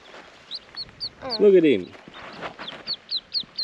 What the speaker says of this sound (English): look at the little duck coming up